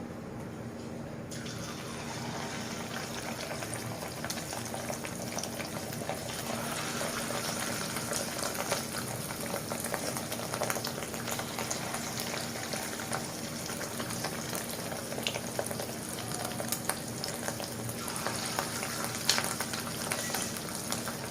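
Egg fritters made with lentil and fish roe batter fry in hot oil in a wok, a steady dense crackle and bubbling that holds evenly throughout, close and moderately loud with no talking.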